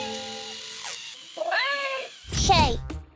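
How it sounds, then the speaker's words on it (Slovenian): A robotic toy cat meows in a few drawn-out, warbling calls, close and fairly loud, separated by short pauses. "Ta robotska mucka je nekako čudna."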